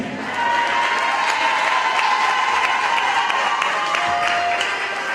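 Audience applause for Dr. Kelvin Daly, president of Clarence Fitzroy College, at a progress forum in Nevis: a steady, dense wash of many hands clapping that holds at even volume throughout, with no voices over it.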